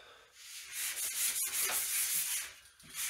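Sandpaper rubbing over car body filler during a repair, a steady scratchy abrasive hiss with strokes that swell and ease across the span, close and fairly quiet.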